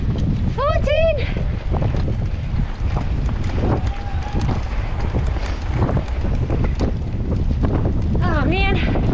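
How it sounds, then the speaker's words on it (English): Strong wind blows during a sailing outing on a windy day at Llandegla. A steady, loud rush of wind buffets the microphone the whole time, with a few short voiced sounds breaking through. "it's slow going in this wind"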